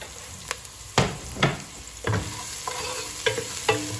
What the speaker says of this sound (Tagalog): Halu-haluin.